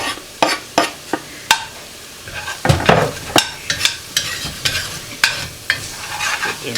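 Banana and jalapeno peppers being stirred into deer gravy in a black pot: a spoon scrapes the pot in a dozen sharp, uneven strokes over a soft background sizzle, close and loud, with no talking.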